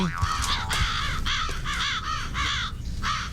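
Harsh, repeated caws from a crow-like bird, about six calls in a steady rhythm, fairly close, over a low rumbling background.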